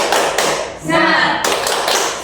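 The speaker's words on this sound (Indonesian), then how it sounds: "Kita tepuk semangat dulu ya" A classroom of children doing a rhythmic spirit clap together, a short burst of sharp claps with chanting voices mixed in.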